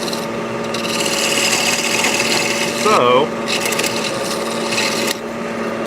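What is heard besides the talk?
square carbide tool turning wood on lathe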